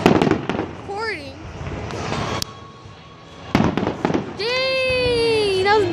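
Fireworks bursting over a beach at night, sharp explosive pops and crackles with several whistling rising shells and a long sizzling burst near the end, while people talk and react in the background.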